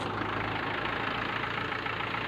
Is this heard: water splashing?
no